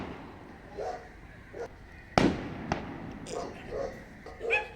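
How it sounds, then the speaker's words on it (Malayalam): A few sharp, distant firework bangs crack out at a festival, one loud pop standing out, with faint voices murmuring in the background. "അവിടെ ഈ വെടിക്കെട്ട് കാണാനായിട്ട്"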